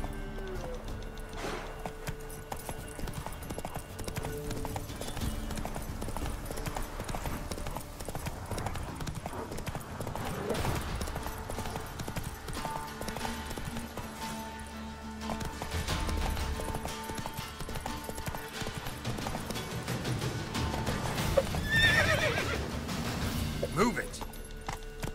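Horse galloping in The Witcher 3, a continuous rhythmic clip-clop of hooves with occasional neighs, close and steady across the whole stretch.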